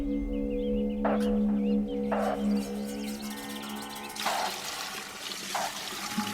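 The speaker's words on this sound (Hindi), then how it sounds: "पूर्वा, थोड़ा पानी दे।" Water is poured in several short splashing bursts, separated by pauses, over a steady low hum in an indoor household setting.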